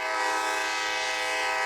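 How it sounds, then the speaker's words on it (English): A Wisconsin and Southern train sounds its horn at a crossing in Madison, a loud, sustained, steady blast filling the whole short moment without a break. "NBC15 photojournalist Brady Headington rode along on a Wisconsin and Southern train through Madison and has some of those close calls caught on"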